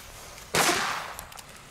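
A single sharp firecracker blast from an ordinary, stock banger, bursting close and loud before decaying into a brief crackling tail.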